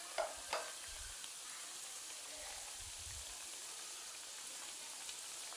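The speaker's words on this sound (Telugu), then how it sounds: "స్టవ్ మీడియం హీట్లో ఉంచుకొని గరిటెతో తిప్పుకుంటూ వేపుకోవాలి." Kajjikayalu deep-fry in oil over medium heat, giving a faint continuous crackling sizzle with occasional ladle taps and soft stirring scrapes.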